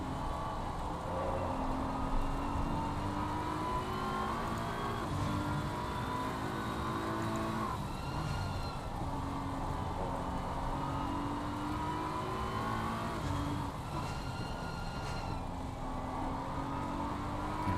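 Racing car engines in the video game Assetto Corsa Competizione at Brands Hatch whine and drone continuously at a low level, with pitch sweeping up and down as gears shift, sounding distant and synthetic.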